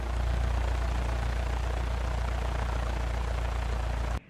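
Steady, loud engine drone of a light airplane in a flight simulator as it touches down main wheels first and then lowers the nose wheel, a continuous broadband rumble that holds unchanged and then cuts off abruptly at the end.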